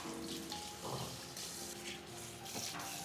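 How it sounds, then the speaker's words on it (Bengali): Tender bamboo shoot pieces are washed under water, with a continuous close run of water and splashing and a few sharper sloshes as the pieces are handled, with no talking. "এখন আমরা বাঁশের টুকরোগুলোকে ধুয়ে নিব"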